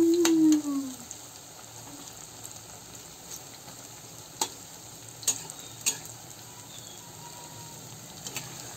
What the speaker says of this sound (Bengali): এই যে একদম কড়ক কড়ক ভাজা হয়ে গেছে, মচমচে বড়া কটা